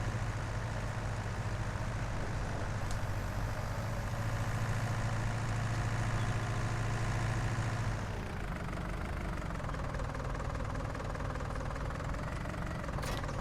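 A tractor engine in Farming Simulator 19 labours while pulling a cultivator on narrow tyres, a steady loud drone with a low rumble that eases and shifts pitch partway through, no voices.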